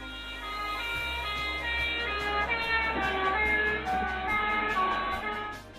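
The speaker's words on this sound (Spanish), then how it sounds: "Si han visto pasar una ambulancia o carro de bomberos con su sirena, esta sería la fuente de sonido" An ambulance or fire engine siren wails continuously, its rising and falling tones steady and loud, with a low road rumble underneath.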